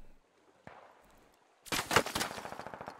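Assault rifle fire in the Squad video game: a rapid automatic burst of evenly spaced shots, loud and close, after a single earlier report.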